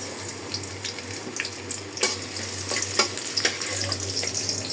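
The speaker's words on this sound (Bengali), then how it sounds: "কড়াই এখানে দিয়ে দিচ্ছি পেঁয়াজ" Chopped onions hit a hot wok and sizzle loudly and steadily. Sharp crackles and spits break out now and then over a low hum.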